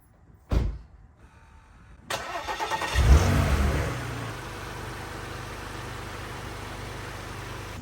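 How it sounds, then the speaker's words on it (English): A Porsche Macan parked for an oil change sits while its air suspension lowers in off-road mode. A sharp click comes first, then a second clunk, a rising mechanical whir and hum, and a steady low drone that continues to the end. "I'm gonna lower this car and just keep it in off-road mode"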